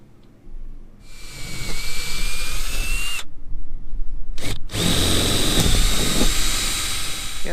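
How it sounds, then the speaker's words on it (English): A power drill bores out posts into solid PVC backing inside a boat, with loud whining bursts of close drilling separated by short pauses and a gritty grinding texture as the bit bites. "Been drilling out these posts and I've been hitting my internal backing. It's solid PVC going through here."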